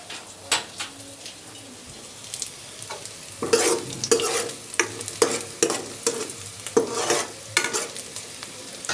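Cumin and spices fry with cooked onions in a pan, stirred in repeated scraping strokes over a steady sizzle; the clatter is close and moderately loud, with no talking.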